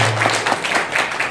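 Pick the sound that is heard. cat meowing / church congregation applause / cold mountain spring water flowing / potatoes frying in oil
church congregation applause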